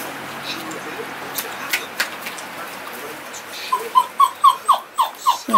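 A four-and-a-half-week-old puppy from a litter whimpering indoors: a rapid series of high, thin yelps and whines building toward the end, close and fairly loud, after scattered softer squeaks.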